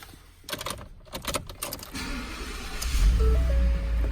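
A set of keys for a 2013 Ford F-150 XLT jingles in a few quick bursts close by, followed by a low rumble and a short electronic chime.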